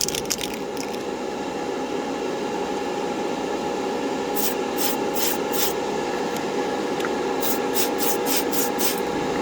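Clear coat sprayed from a can onto a 1968 Corvair model car body, a close steady hiss with several short bursts of spraying, repeated in quick pulses, and no talking.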